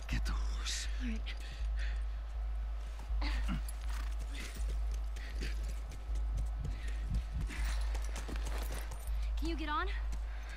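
Horse hooves clip-clop steadily in The Last of Us, a regular thudding gait running through the whole stretch, fairly close, with a faint voice and low game ambience underneath.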